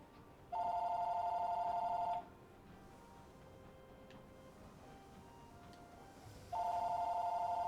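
A phone rings twice with a loud electronic trill, each ring about a second and a half long, separated by a quieter pause with faint background sounds.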